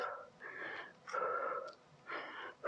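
Forceful exhales during an abdominal workout, three strong breathy blows spaced about a second apart, close and fairly loud with no talking.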